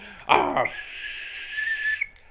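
A thin, slightly wavering cheap plastic whistle is blown once, holding a steady high tone for over a second after a brief vocal sound.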